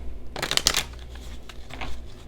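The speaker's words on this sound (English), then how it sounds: "So what I'm going to do is continue shuffling." A deck of tarot cards being shuffled nearby: a quick burst of riffling flutters, then a few lighter shuffling rustles and taps.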